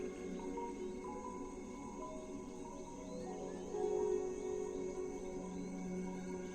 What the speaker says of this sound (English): What are they? Cicadas?